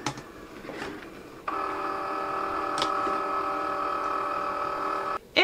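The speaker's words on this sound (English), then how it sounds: "So we're going to turn on our Cricut machine." A Cricut cutting machine powers on with a sudden steady electronic whine and hum that holds evenly for several seconds before cutting off, with a few faint ticks near the start.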